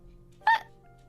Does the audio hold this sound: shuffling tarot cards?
no